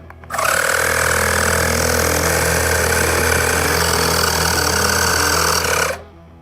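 A Fanttik Apex X4 portable air compressor inflates a sport ball through a needle, running as a loud, steady motor drone with a buzzing whine for about five seconds before cutting off abruptly.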